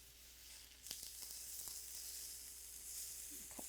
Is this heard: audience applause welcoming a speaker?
no